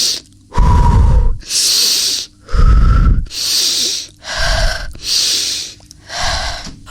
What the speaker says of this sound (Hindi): मैं अपनी सांसों की आवाज ऊंची कर सकती हूँ।